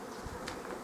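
Honeybees buzzing softly at a spring apiary, a faint continuous hum for under a second with one brief louder swell partway through.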